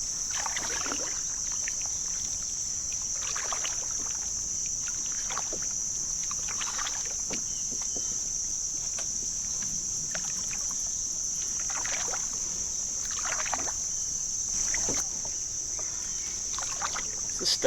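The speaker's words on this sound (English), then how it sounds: "This stuff isn't the easiest to paddle through." A kayak paddle swishes and splashes in a slow, regular rhythm through thick, weedy water on Blue Marsh Lake in the early morning, with steady insect chirping in the background.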